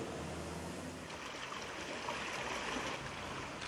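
Steady rushing water of the Isar river in Munich, a broad continuous wash of flowing current close by with no voices.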